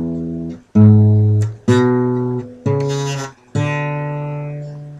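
Acoustic guitar playing a walking blues riff: four strong plucked notes on open strings and fretted bass notes, each ringing out and slowly decaying, close and clear with no voice.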